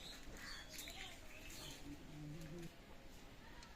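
Chinese teddy pigeons coo softly in a loft, with faint chirps and a brief flutter of wings under steady background noise.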